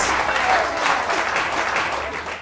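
Brief audience applause right after a stage magic card trick, a dense, steady patter of many hands that holds for a couple of seconds and fades slightly at the end.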